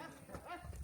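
A cow gives a short, faint low moo in the mountains at Gamsutl, Dagestan, set against rumbling background noise.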